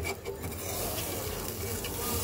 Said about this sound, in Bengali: দিয়ে দিলাম ঝোলের জল, মিক্সড করে দিয়ে দেওয়া হয়ে গেল